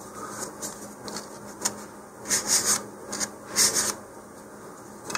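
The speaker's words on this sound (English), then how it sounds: "take a little file or a little emery board and sand in there" A small file or emery board sands a part of a Black Brant IVB-30 model rocket kit, making close, quiet, irregular rasping strokes in short bursts, with no talking.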